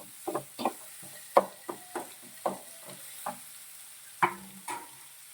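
Chopped tomato frying in a pan for upma, with a spoon scraping and knocking against the pan in irregular strokes over a soft, steady sizzle, close and fairly quiet.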